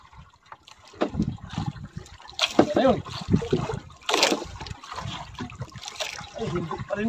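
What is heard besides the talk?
water leaking into boat through hole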